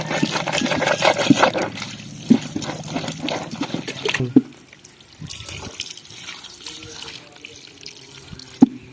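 Water pours and runs steadily with a loud, rushing splash for about four seconds, then settles into a softer, quieter flow broken by a few sharp knocks.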